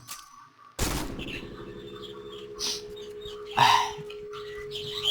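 Sharp gunfire bursts from the Point Blank shooter game, including a loud opening shot followed by a sustained tone and several further blasts, with game effects and a faint background hum.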